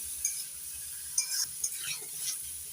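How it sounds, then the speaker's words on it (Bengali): Boiled green jackfruit being stirred and fried in a pan over medium heat, a soft steady sizzle broken by a few light clinks and scrapes of the spoon against the pan. "এগুলো সিদ্ধ করা এঁচুড় নাড়াচাড়া করে ভেজে নিচ্ছি"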